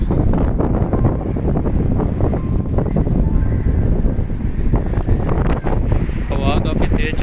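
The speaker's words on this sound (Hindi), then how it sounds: "हवा काफ़ी तेज़ चल रही है।" Strong wind roars at night through Old Muscat near the Muttrah waterfront, a constant, heavy buffeting rush against the microphone that never lets up.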